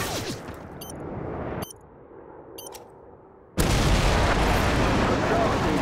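Airstrike explosions in a team search-and-destroy shooter: a steady roar of battle with sharp radio-style beeps gives way to a quieter lull. A massive, sustained blast of explosive noise then fills the last two seconds.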